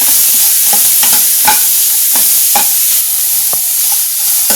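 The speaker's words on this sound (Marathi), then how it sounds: "हे दोन्ही छान एकत्र परतून घ्यायचे आपल्याला" Steady sizzling of food stir-frying in a pan with black pepper powder, with repeated scraping and clinking of a spatula against the metal, close and continuous.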